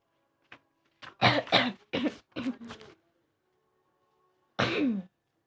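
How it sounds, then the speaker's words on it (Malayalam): Several sharp coughs come in a quick cluster, followed after a pause by one more harsh cough, close and fairly loud. "ചുമയാണ്."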